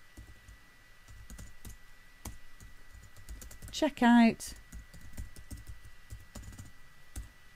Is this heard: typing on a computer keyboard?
yes